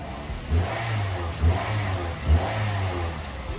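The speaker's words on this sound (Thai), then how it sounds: "เบิ้ลแบบวัยรุ่นญี่ปุ่นนะครับ" A 2011 Toyota Vios 1.5E with automatic transmission revving its 1.5-litre engine in quick blips, three short throttle surges over a low steady idle, heard close and fairly quiet.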